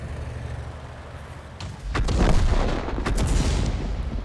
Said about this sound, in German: Oh, da schießt eine Arti auf mich.